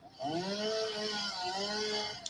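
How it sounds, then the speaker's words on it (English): A chainsaw in the factory-building game Satisfactory runs steadily at a sustained whine, its pitch rising and dipping as it cuts, loud and continuous with no talk over it. "the use of the chainsaw also uses some of the biofuel."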